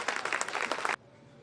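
Audience applause at a Hindi shayari and poetry gathering as a poet steps up to the microphone, a dense burst of clapping that cuts off abruptly after about one second, leaving quiet room tone.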